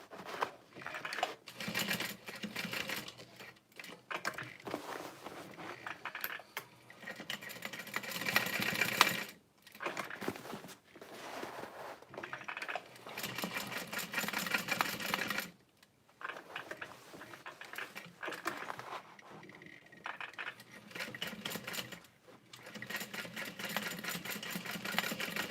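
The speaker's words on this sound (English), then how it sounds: "Sewing a box stitch around those connectors" A sewing machine stitches a box stitch around connectors on a custom leather bag. It runs in fast, rattling mechanical bursts of varying length, stopping and starting repeatedly with brief pauses, at moderate volume and with no talking.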